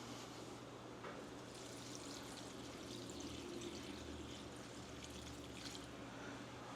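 Water pours steadily into a cooking pot for bouillon broth in a home kitchen, a continuous splashing rush that stays even for several seconds, moderately close with no talking.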